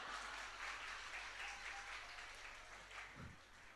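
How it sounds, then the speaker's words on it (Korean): A church congregation applauds during a Sunday worship service, a fairly faint, steady wash of clapping across the room that slowly fades, with no speech over it. "교회 위해서 한 박수 한번 치."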